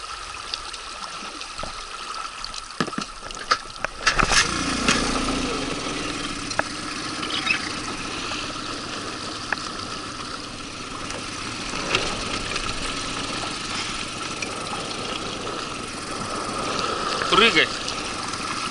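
A small boat motor is started on a river trip, catching with a burst and then settling into a steady idle, with water trickling and people talking nearby.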